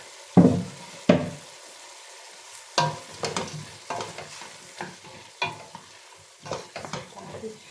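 Carrots frying in a pan for borscht, with a stirring utensil scraping and knocking against the pan in sharp bursts over a steady low sizzle, close and fairly loud, with no voices.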